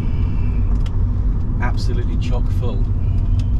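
A 24-year-old Rover 200 BRM car driving on the road, a steady close engine and road rumble running throughout beneath a person talking.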